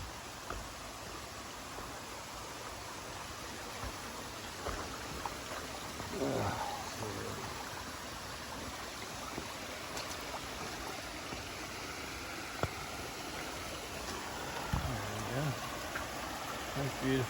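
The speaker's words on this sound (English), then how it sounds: "This is the first creek, I think, in the Shenandoahs that we crossed." A creek in the Shenandoah mountains flows in a steady, broad rushing wash, close and continuous, with a few faint knocks and movements on top.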